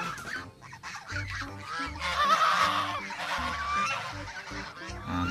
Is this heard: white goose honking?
yes